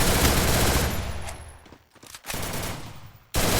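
Rapid automatic gunfire in a shooting video game, dense loud bursts that drop away briefly, return in a short flurry, then resume abruptly near the end, with no talk.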